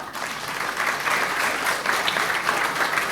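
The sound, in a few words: audience applause welcoming chief guests at business conclave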